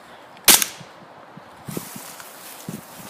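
A single sharp gunshot from a Glock 23 pistol fired outdoors at a target, loud and close, followed by a brief decay and a few faint footsteps and rustles afterward.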